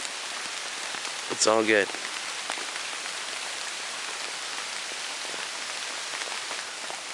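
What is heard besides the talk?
rain falling in a forest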